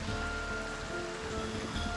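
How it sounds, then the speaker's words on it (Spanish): Steady rain falls in the video game Foundation, a continuous broadband hiss of drops on surfaces with a low rumble beneath, no voices. "Y no para de llover, ¿eh?"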